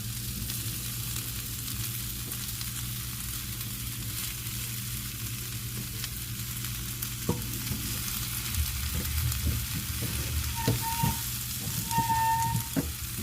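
Sausage meat sizzling and frying in a pan over medium heat: a steady, close, hissing crackle that grows busier toward the end, with a few light clinks of stirring and no speech.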